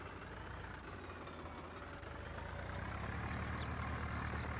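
Swaraj 744FE tractor engine in Farming Simulator 19, a low steady diesel drone that swells slightly as it works under load, alone without talk.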